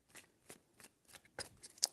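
Tarot cards being shuffled by hand: a few soft, quick riffling and slapping bursts, close and faint, in a quiet room.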